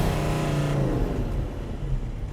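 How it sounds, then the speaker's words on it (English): Volkswagen Touareg V10 TDI with twin turbos pulling hard under acceleration, a steady loud engine drone heard from inside the cabin that climbs in pitch over a couple of seconds, with no talk over it. "I honestly cannot get over the thrust from that initial kick when the turbos spool up"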